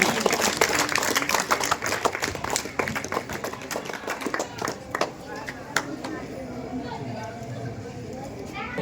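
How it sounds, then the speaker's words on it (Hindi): Children at a World Human Rights Day celebration clap hard in a dense burst of applause that thins out over several seconds, with an adult voice speaking over it. "जोरदार ताली बच्चों, जोरदार ताली।"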